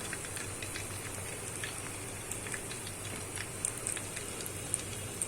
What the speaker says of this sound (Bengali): তো আমি নাগেটগুলা ভেজে নিচ্ছি